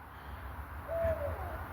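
A single owl hoot, a soft, drawn-out call at a distance in woodland, over a low rumbling background in otherwise quiet surroundings.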